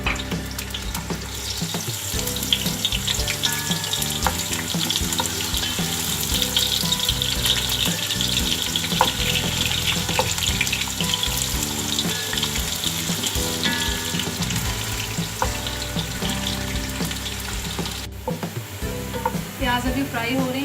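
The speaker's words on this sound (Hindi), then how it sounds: "प्याज अभी फ्राई हो रही हैं।" Onions fry in oil in a deep degchi cooking pot for a chickpea pulao. A dense, even sizzle runs throughout, with frequent stirring clatter and a brief break near the end.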